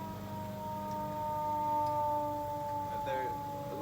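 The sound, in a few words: emergency vehicle siren in the neighborhood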